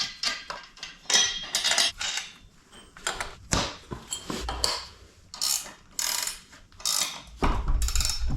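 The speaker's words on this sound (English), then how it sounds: "So we're going to assemble these and get the bolts tightened" Bolts being tightened with a ratchet during an in-floor heating boiler assembly, heard as repeated bursts of metallic clicking and clanking, fairly close, with short pauses between strokes and no talk.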